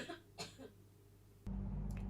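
A person gives several short, sharp coughs close to a microphone during a mic test. They come in quick succession near the start, then a louder steady noise takes over.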